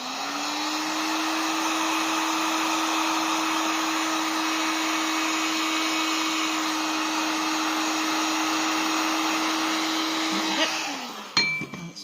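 A heat dryer drying paint on a piece of pottery blows in a loud, steady, close whine for about ten seconds, then cuts off and leaves a few clinks and handling noises.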